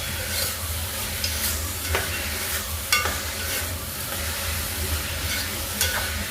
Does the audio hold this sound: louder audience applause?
no